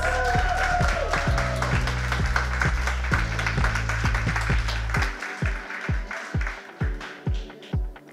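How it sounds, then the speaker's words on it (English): At a pastry competition awards ceremony, the audience gives the contestants a round of applause that fades under loud music with a pounding beat. The beat then carries on alone in distinct, rhythmic thumps. "big round of applause for all of our contestants"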